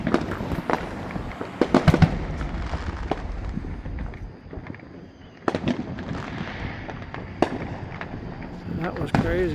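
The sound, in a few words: July 4th fireworks exploding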